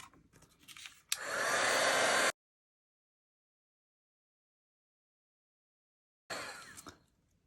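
A heat tool blasts loudly for about a second to set clear embossing powder on a Halloween treat box, cuts off into silence, then roars again briefly near the end.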